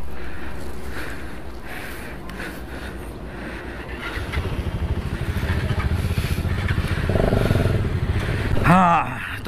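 A motorcycle rides along a highway near Nashik on a touring trip, its steady engine drone and wind rumble running continuously, rising in loudness partway through, with faint voices and a brief high whine near the end.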